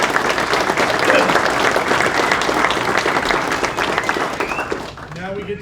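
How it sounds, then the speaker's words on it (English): At a paramedic program recognition ceremony, a crowd gives a steady, full round of applause that tapers off near the end. A voice briefly starts up as the clapping dies. "Let's give these incredible individuals a well-deserved round of applause for their hard work"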